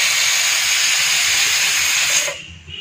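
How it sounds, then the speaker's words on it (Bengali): A pressure cooker whistle lets off a loud, close, steady jet of hissing steam while dal cooks, then cuts off abruptly after about two and a half seconds. "আমার প্রেশার কুকারে হুইসেল দুটো পড়ে গেছে"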